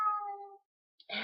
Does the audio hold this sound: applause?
no